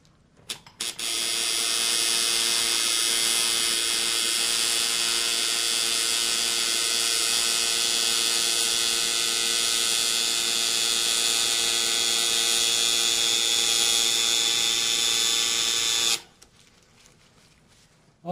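A tattoo machine buzzes continuously at close range with a steady electric drone and hum, running without pause for about fifteen seconds before cutting off.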